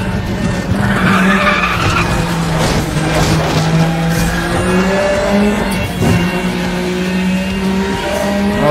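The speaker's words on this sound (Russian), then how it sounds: "Porsche реально умеет дрифтовать" A Porsche drifts hard through a narrow road race in Need for Speed: The Run, tires squealing in a long continuous skid over a loud, steady engine drone.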